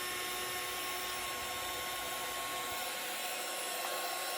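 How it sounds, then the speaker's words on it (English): A heat embossing tool blows hot air in a steady, continuous close whoosh with a faint whine, running alone without pause for the whole stretch while crafting a card. "Just going to heat up my tool again."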